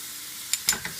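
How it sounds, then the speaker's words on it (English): Shrimp with tomatoes, butter and lemon sizzling in a pan, a soft steady hiss broken by a few brief crackles and stirring sounds, close and without voices. "you can see the shrimp's just about cooked all the way"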